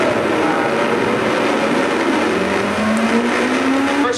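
Corvette ZR-1 cars racing through the final corner of a track, a loud, continuous engine roar with a rising pitch as a car accelerates past, no voices.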